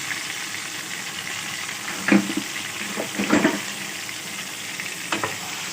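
Tomatoes cook in a pan with a soft, steady hiss, and a few brief stirring scrapes stand out clearly above the low simmer.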